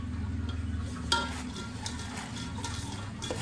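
Grated raw mango juice is stirred into a mango pickle, giving close, rhythmic scraping and stirring with a few soft utensil clinks against the vessel, steady over a few seconds.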